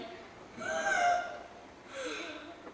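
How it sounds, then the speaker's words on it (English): A performer gives a drawn-out, breathy, voiced yawn on stage during a youth theater camp show. A second, softer exhale follows about a second later. No words are spoken. "who's that yawning?"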